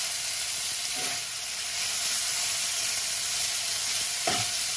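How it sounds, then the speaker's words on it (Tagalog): Ground chicken and string beans stir-fry in a hot pan with oyster sauce, giving a steady, close sizzle with a couple of soft scrapes as the mixture is stirred. "Stir fry chicken diniling with sitaw or string beans."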